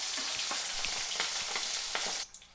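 Khoyra fish frying in a pan, a loud continuous sizzle and crackle with popping bursts and a few stirring knocks, cutting off sharply near the end.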